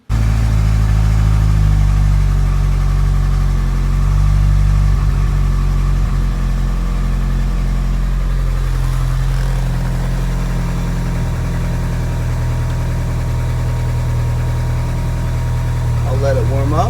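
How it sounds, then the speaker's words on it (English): DSM car engine starting with an abrupt catch, then settling into a loud, steady, low rumbling idle close by, with faint talk later on and a rev near the end. "Let's start her up"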